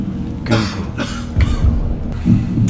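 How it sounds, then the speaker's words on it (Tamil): A man coughs on a televised quiz show, with about four sharp, fairly loud coughs spaced irregularly across a short stretch. "திடீர்னு ஒரு இருமல் சத்தம் வந்த உடனேயே"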